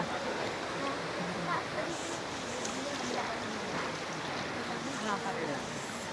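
Steady rushing water from Taytay Falls in Majayjay, Laguna, a constant broad hiss with faint voices murmuring underneath.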